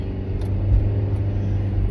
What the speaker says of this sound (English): Jesus, I started the car up